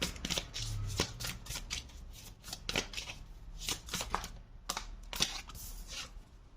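Tarot cards being shuffled and handled, a quick series of close, crisp riffling snaps and soft slaps at an uneven rhythm, with no voices.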